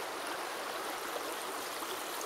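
Creek water flowing, a constant, close rushing babble with a bright hiss and no pauses, heard alone.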